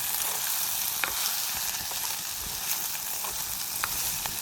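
Food frying in oil in a covered pan in a village kitchen, a steady close crackling sizzle with scattered pops and a faint stir, no voices.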